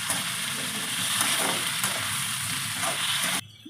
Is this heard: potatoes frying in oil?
yes